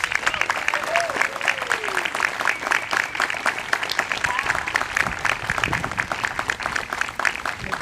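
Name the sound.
audience applause for award winner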